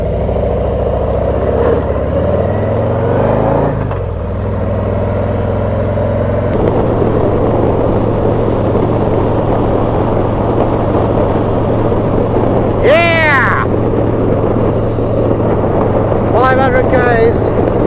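Harley-Davidson motorcycle cruising through the hot Australian outback, its engine a steady, loud low drone under heavy wind rush, with brief high chirps cutting through near the end.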